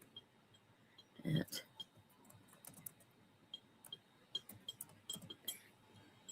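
Quiet, irregular clicks of a computer keyboard being typed on in short bursts, with a few louder knocks mixed in.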